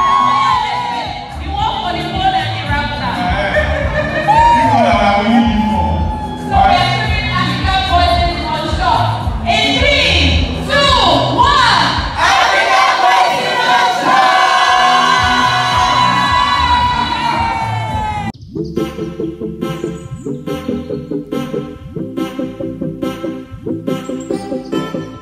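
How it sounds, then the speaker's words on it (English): Audience at a YouTube Africa creator day event cheering and whooping loudly for about eighteen seconds, with shouts and voices mixed in, before the crowd noise gives way to a rhythmic music beat. "Round of applause for Tomika, come on."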